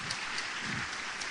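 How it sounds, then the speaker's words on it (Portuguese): A lecture audience applauds in a dense, steady patter of many hands clapping, filling the whole short moment with no speech over it. "Por favor, salva de palmas aqui para o meu amigo Antônio"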